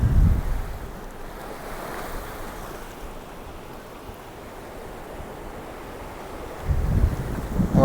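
The Bhima river rushes in a rising flood with a steady, broad roar, and gusts of wind buffet the microphone near the start and end.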